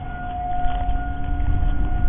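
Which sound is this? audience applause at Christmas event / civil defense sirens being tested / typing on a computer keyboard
civil defense sirens being tested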